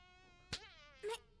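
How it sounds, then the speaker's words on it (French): A fly buzzes in a thin, steady drone, with two brief louder bursts as it passes close by. "Oh oui, il y a une mouche."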